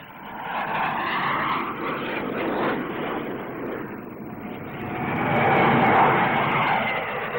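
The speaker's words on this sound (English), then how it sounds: "Another new development is the DH-125. A small transport aircraft with twin rear-mounted jet engines." A DH-125 small transport aircraft with twin rear-mounted jet engines passes at the 1962 Farnborough air display, its jet roar swelling and fading steadily, then building louder again toward the end of the pass.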